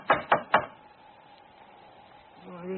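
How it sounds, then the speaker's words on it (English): Three sharp knocks from a door knocker on a front door land in quick succession, loud and close, followed by a quiet pause and then a voice beginning to speak. "Let's try the knocker."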